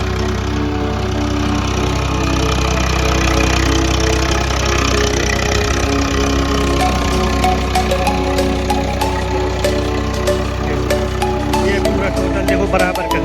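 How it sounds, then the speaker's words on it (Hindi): A tractor ploughs a field for wheat sowing while a wooden leveller drags behind it, its engine droning loud and steady throughout with a knocking, mower-like rumble. "भाई ट्रैक्टर चल रहा है तो आवाज़ नहीं समझ में आ रही"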